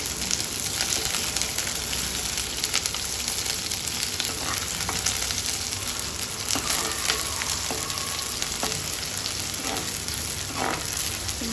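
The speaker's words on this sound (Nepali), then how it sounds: "प्याजलाई चाहिँ मजाले रातो हुने गरी भुट्छु पहिला।" Onions frying in hot oil for a chicken gravy, a dense, steady sizzle with occasional crackles and stirring scrapes running throughout at close range, with no talking.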